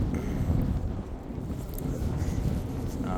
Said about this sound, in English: A little bit windy out here and cold.